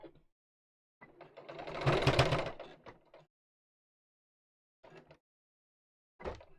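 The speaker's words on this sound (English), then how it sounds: "So I've just sewn the end of that together." A sewing machine sewing the end of a piece of fabric together, a short burst of motor whir nearby, followed by scattered faint handling clicks and quiet gaps.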